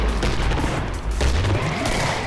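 Rapid heavy gunfire from an M99 anti-materiel rifle in the Killing Floor zombie shooter, set in Portal's Aperture Laboratories: loud, dense shots packed close together with booming low end, filling the whole stretch.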